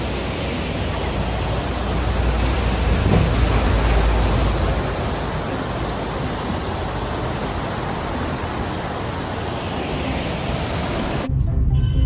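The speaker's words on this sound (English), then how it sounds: "A rushing and a gushing and a blushing. Waterfall." Rushing water at Kalu Waterfall in the Malshej Ghat area of Maharashtra, a loud dense steady roar that carries on for about eleven seconds before cutting off abruptly, no voices.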